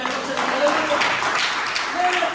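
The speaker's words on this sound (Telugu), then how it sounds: "గట్టిగా చప్పట్లు కొట్టే." A church congregation at a meeting claps loudly, a dense patter of applause running through the whole moment while a voice speaks over it.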